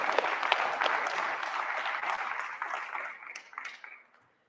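An audience at an awards ceremony claps in a dense, steady wash that fades out over the last second.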